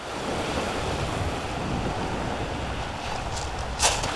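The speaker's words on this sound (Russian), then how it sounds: "Но зато море есть в Ялте, в Крыму." Sea waves wash steadily at Yalta on the Crimean coast, a continuous loud surf roar with heavy wind buffeting the microphone and no voices.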